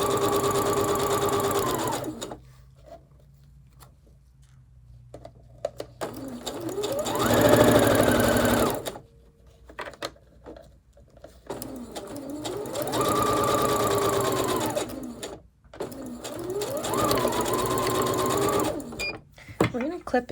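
A sewing machine stitches a pocket on an open-back dress in bursts, running steadily, then pausing while the needle stays down and the fabric is turned, then running again. A voice talks quietly during the pauses.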